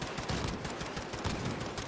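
Repeated shotgun blasts from Call of Duty Modern Warfare (2019) multiplayer crack out in a quick, uneven series, moderately loud amid game noise, with no talk.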